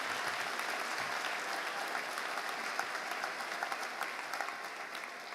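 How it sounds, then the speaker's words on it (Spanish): Sustained applause from a congregation at an international missionary church congress in Oberá, Misiones, Argentina, many hands clapping evenly at a moderate distance for several seconds with no voices over it. "Fuerte el aplauso para Brasil."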